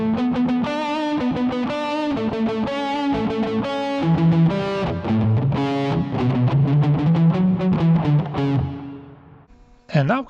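A heavily distorted electric guitar plays the ending of a solo: fast, dense runs of sustained notes, loud and close, fading near the end before a final short burst.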